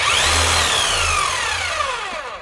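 A hammer drill under repair, switched to plain drill mode, runs with a loud, close motor whine that sweeps steadily downward in pitch as it winds down over about two seconds.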